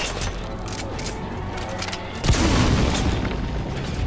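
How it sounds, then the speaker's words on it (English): A grenade blast in the video game Metal Gear Solid V, one loud booming explosion partway through that follows lighter gunfire pops and rumbles on for a moment afterward. "Okay, that was a grenade that time."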